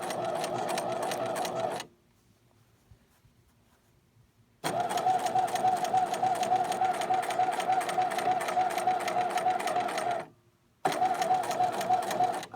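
A sewing machine basting a waistband along its edge runs in rapid, steady stitching bursts up close, a long run broken by two short pauses before resuming.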